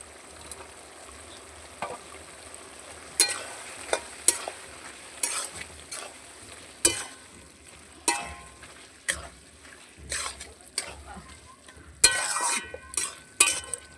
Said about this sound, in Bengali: এবার আমি চিংড়ি মাছগুলো দিয়ে দেবো।